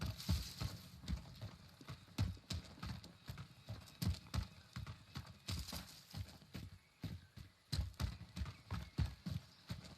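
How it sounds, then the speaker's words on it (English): Rapid footsteps of a player character in the battle royale game Warzone, a steady run of close, crisp impacts across the whole stretch with no talk. "let's see what he does with the footstep audio here"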